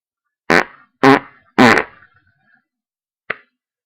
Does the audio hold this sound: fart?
yes